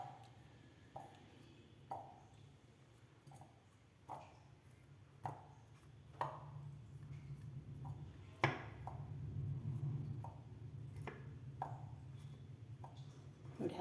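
Round peanut and jaggery ladoos are set one by one into a steel container, making a series of soft, evenly spaced thuds and taps at close range over a faint background hum.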